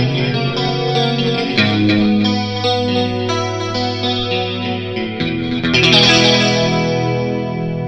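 An electric guitar played through a delay pedal blended with a dimension chorus effect rings out in loud sustained chords and notes, with shimmering, echoing repeats trailing each strum.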